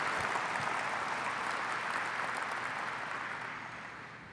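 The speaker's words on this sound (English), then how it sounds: "Where's that applause thing?" A canned applause sound effect plays at a port event, broad even clapping and cheering noise that starts at full level and slowly fades away over several seconds.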